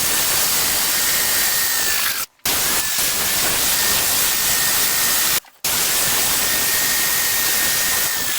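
A paint sprayer hisses steadily and loudly while spraying a bare plaster ceiling, with a constant broadband rush cut by two brief pauses when the trigger is released.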